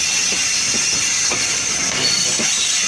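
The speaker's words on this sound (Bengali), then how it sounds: "দুটি ট্রেনের একসাথে ক্রসিং দেখতে কত অস্থির।" Trains crossing at Parbatipur Junction, one broad gauge and one metre gauge, give a steady rumbling hiss with faint rhythmic clicks of wheels over rail joints, moderately loud and continuous with no voices.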